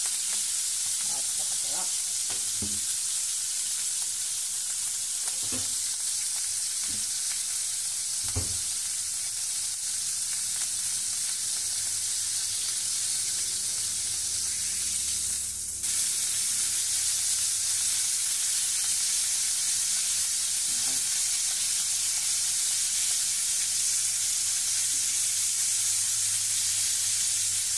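Pasta carbonara ingredients sizzle steadily in hot oil in a pan, a loud continuous frying hiss with occasional utensil clinks and stirring, briefly swelling mid-way; a voice speaks over it.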